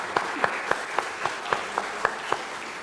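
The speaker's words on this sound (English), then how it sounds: "That's a round of applause." Applause after a book reading, heard as sparse, evenly spaced single claps at a moderate distance rather than a full crowd.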